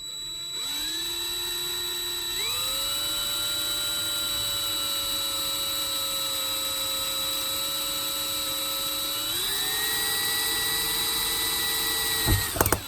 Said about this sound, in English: we're going to just drill right through it.